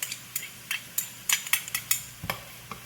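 A spoon stirs garlic paste into vegetables cooking in a pot for Manhattan clam chowder, giving about a dozen close, rhythmic clinks and scrapes against the pot over a faint background.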